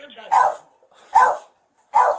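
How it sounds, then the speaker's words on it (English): A dog barks three times, sharp and close, with short gaps between each bark. "the dog been barking the whole time"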